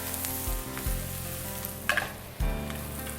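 Onions frying in a pan for fried rice, a steady close sizzle with a few stirring scrapes and a brief louder clatter midway, no talk.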